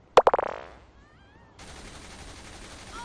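Police gunfire in the video game Saints Row 3: a quick rattling burst of several shots that fades out, followed by a faint steady hiss of game noise.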